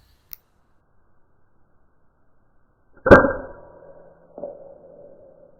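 FX Impact M3 air rifle shot at a squirrel feeder, slowed down: a tiny tick, a long silence, then a heavy drawn-out thump with a ringing tail and a second softer impact, isolated in quiet.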